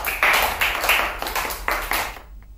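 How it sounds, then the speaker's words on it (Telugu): Preschool children aged three to six clap together in a classroom after a game, producing a run of about seven rhythmic, loud group claps that stop abruptly. "క్లాప్స్."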